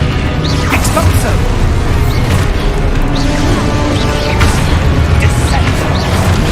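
Exposo explosion spell cast in Hogwarts Legacy: thudding blasts and crashing impacts erupt over a dense, continuous layer of game noise, loud and busy throughout.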